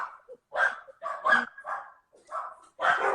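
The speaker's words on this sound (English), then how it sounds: "I guess we can't mute the dogs." Several dogs from a household of four barking in an indoor room, bursts of overlapping barks and yips coming in quick clusters, fairly close and loud.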